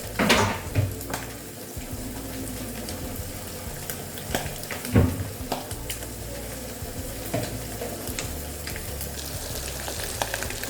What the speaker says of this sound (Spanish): Estoy friendo todo ahorita